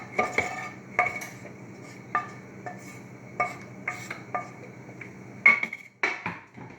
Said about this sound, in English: in go the 2 onions that I fried up